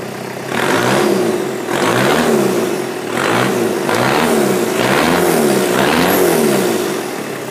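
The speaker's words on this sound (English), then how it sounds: "I'll rev it up here and you can kind of see the exhaust" A 1985 Toyota 4Runner with a turbo diesel conversion revs repeatedly, loud and close, in steady surges that rise and fall over a rough diesel idle.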